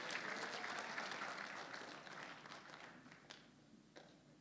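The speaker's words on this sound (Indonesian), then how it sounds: "Berikan tepuk tangan bagi Allah kita" A church congregation at a Christmas Eve service in Jakarta breaks into applause, a dense, distant roar of clapping that gradually fades, with a few last claps near the end.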